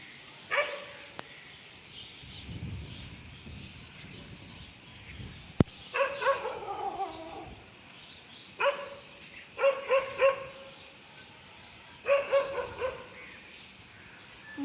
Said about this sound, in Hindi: मतलब डर भी रहा है और भौंक भी रहा है